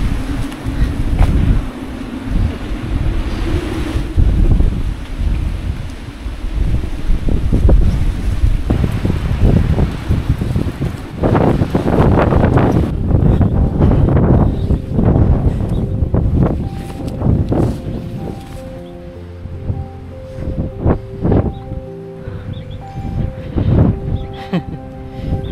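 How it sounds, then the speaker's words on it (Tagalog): Strong wind gusts roar across the slopes of Mt. Malindig in Marinduque in rainy weather, a loud, continuous buffeting rush with bursts of turbulence near the microphone, later broken by scattered clicks and knocks. "Grabe, galit na galit yung hangin."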